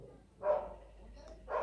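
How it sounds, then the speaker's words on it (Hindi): A dog barking in the background of a Himachal village, two faint, separate barks heard at a distance. "कुत्ता इज भौंकिंग"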